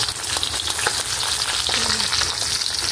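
Bilong-bilong fish fries in a pan with a steady, close crackling sizzle that runs through the whole stretch, dotted with small pops and a short scrape.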